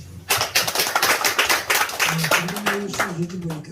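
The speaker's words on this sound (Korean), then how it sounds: "박수로 하나님께." A congregation at a prayer service in a mountain prayer retreat claps together in a fast, even run of loud claps, with a voice speaking over the later part.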